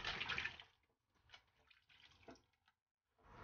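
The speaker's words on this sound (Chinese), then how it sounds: "把螺丝椒用清水清洗干净" Water splashes and trickles faintly as screw chili peppers are rinsed clean under water in a kitchen, with soft intermittent drips and swishes and no voices.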